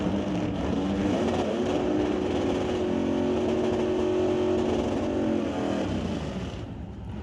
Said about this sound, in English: Jamie Roth out of Langley getting ready to go down the TCS side of the racetrack in that Comet